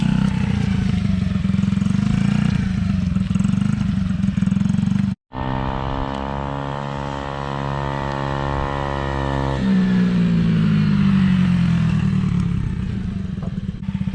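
Motorcycle ridden hard across grass and dirt, engine loud and close, revving up through the gears with rising and falling pitch and a brief cut mid-run.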